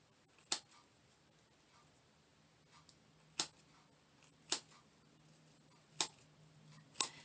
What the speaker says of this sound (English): and just keep snipping away at it.